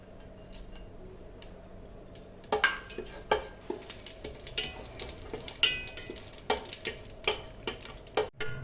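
Fennel seeds, cardamom, cloves and curry leaves sputter in hot oil in a cookware pan for mushroom biryani, giving scattered close pops and crackles over a low, steady sizzle.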